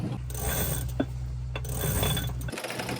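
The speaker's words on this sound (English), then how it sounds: "Hand cranking in the windlass is pretty exhausting." Hand-cranked anchor windlass on a sailboat, giving steady mechanical clicking and ratcheting with rhythmic gear rattle, close and moderately loud, ending abruptly near the close.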